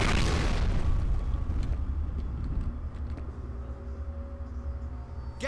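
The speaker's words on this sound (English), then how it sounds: "Look out, grenade!" A loud grenade explosion in the first-person shooter F.E.A.R. opens with a heavy boom, then rumbles and decays into a low sustained roar with faint debris ticks.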